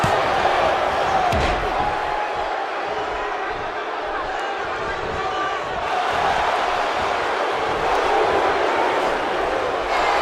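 An arena crowd buzzes steadily in the wrestling game WWE 2K17 during a WrestleMania tag titles match, a continuous wash of cheering and murmur with a sharp slam early on and commentators talking over it.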